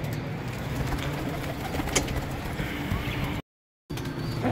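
Pigeons and budgies in a home enclosure being fed grain, with soft cooing and bird calls under a dense, steady outdoor background, broken by one brief gap of silence near the end.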